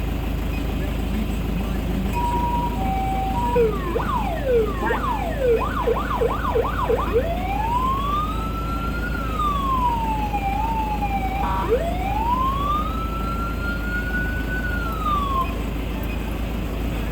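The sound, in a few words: ambulance siren alert system being tested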